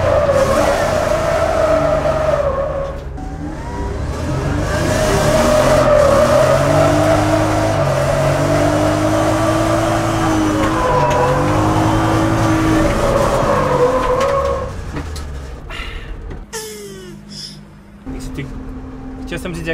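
A car drifting on winter tires: the engine revs hard while tires squeal and scrub through a long slide, loud and close, with people talking over it and a brief drop near the end.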